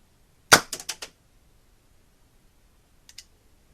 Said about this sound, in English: Now to fire, all that needs to be done is to squeeze the trigger.